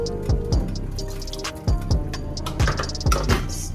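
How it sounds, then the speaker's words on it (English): Cauliflower cooking water, about a cup, poured into a pan of vegan Hamburger Helper, giving a close, wet splashing trickle in short bursts with a few soft clinks between. "Use some of that reserve water from the cauliflower to add into there."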